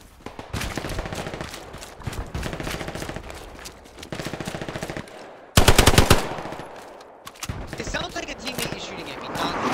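Heavy gunfire from the World War II shooter game Hell Let Loose, dense rapid automatic bursts with a tank nearby, loud and almost nonstop.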